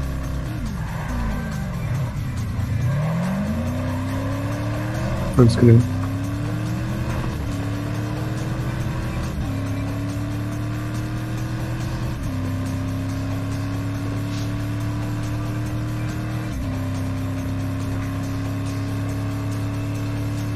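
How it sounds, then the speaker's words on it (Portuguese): An Audi engine in Test Drive Unlimited Remastered, driven with a manual gearbox, revs up through successive gear changes, each rising whine dropping at the shift, loud and close, with a brief spoken phrase partway through. "então tem que ouvir o motor do carro, né?"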